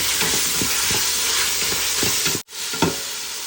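Mutton kuruma masala with ginger garlic paste and tomato sizzles and fries in a pan, a steady loud hiss broken by repeated stirring scrapes, with a brief dropout near the end.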